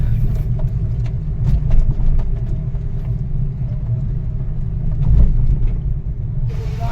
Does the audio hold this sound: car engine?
yes